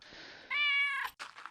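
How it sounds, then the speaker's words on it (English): A house cat meows once, a clear, loud, drawn-out call close by, followed by a shorter trailing vocal sound. "Kitty cat."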